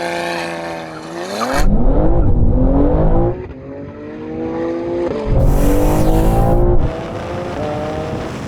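A BMW M3 races a Ferrari, its engine revving hard through rising gear sweeps with loud, close bursts of acceleration and a brief high-pitched roar, and no talking.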